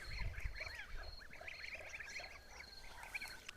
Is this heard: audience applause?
no